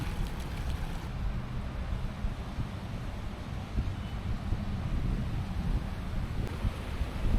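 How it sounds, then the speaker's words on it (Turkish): Steady gusting wind buffets the microphone beside the Vadistanbul shopping mall in Sarıyer, Istanbul, a continuous low rumbling roar with no voices. "İstanbul'da yine rüzgarlı bir güne denk geldim."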